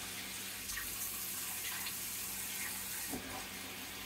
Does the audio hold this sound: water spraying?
yes